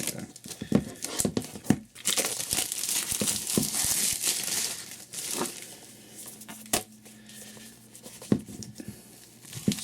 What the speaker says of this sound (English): So I'm gonna unbag it, unbox it.